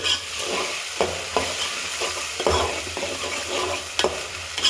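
Whole spices sizzling in oil while being stirred in a pan for egg biryani, a continuous hiss broken by several scraping knocks of the spatula, close and clear, no talking.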